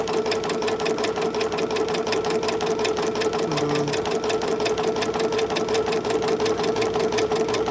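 A Ricoma EM-1010 embroidery machine runs continuously at close range, its needle hammering in a fast, even rhythm over a steady mechanical hum.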